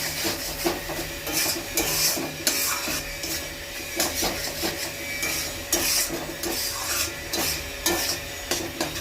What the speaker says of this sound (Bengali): নুন দিয়ে নেড়ে ছেড়ে নেবো